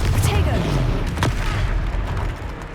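Confringo blasting curse going off in the Hogwarts Legacy game: a loud booming blast over dense battle noise, with a sharp crack near the start and rumbling low thuds that carry on through the clip.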